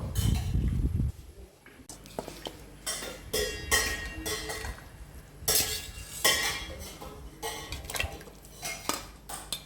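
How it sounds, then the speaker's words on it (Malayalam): Metal clatter and scraping in a pot as chicken is tipped in and stirred into boiling sauce for madhooth, with repeated clanks and knocks over a low bubbling background. "നമ്മൾ ചിക്കൻ ഇടാൻ പോകാം കേട്ടോ"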